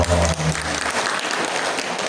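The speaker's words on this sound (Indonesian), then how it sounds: "Tepuk tangan dong." An audience at a church gathering breaks into applause, dense steady clapping throughout, with a brief voice speaking at the very start.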